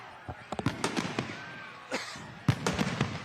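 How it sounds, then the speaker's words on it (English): Fireworks bursting at a high school football game, Gallia Academy vs. Boyd County, a rapid run of sharp cracks and pops in clusters, with a crowd murmuring underneath. "saved a few extra fireworks at the end for those reserves in the game"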